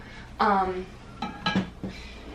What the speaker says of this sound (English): I'm trying to cook while I talk to you.